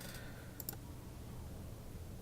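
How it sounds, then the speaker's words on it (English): Two quick mouse clicks during a puzzle in the Nancy Drew: The Haunting of Castle Malloy video game, sharp and brief, over a quiet low hum. "That sounds like a mouse clicking sound."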